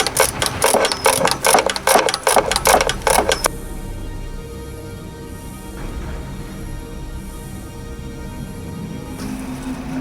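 A ratchet with a 10mm socket and extension works the exhaust bolts on a Suzuki RF900 motorcycle, giving a rapid run of close, sharp clicks for a few seconds, then quiet handling sounds.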